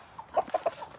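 A backyard chicken gives a short burst of clucks, three or four quick, close, moderately loud notes in a rapid rhythm.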